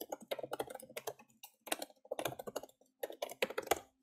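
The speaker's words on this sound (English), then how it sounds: "Thank goodness I'm a fast typer." Fast typing on a computer keyboard comes in quick, irregular bursts of crisp key clicks with brief pauses between runs, fairly quiet and close with no voices.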